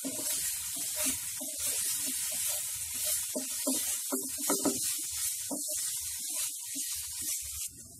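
Mutton pieces coated in black pepper powder sizzle in a pan over a medium flame, a soft crackling hiss broken by irregular stirring scrapes and spatters, with no talking.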